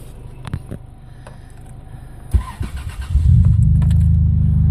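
An old truck with about 400,000 miles cranks over with a few clicks and starter turns, then fires and settles into a loud, rumbling idle, with no talk.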